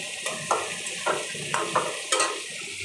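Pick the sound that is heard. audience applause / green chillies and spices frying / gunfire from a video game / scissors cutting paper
green chillies and spices frying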